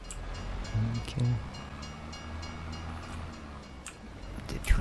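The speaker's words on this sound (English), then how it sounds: "The train, boss," A train rumbles past in Farming Simulator 22, a low rolling drone with a couple of louder swells early on and a brief rise at the very end, heard without speech.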